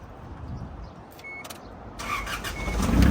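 A 2005 Isuzu D-Max four-door pickup's 2.5 litre engine idles and then revs up louder, with a brief whirring mechanical whine partway through, close by and no speech.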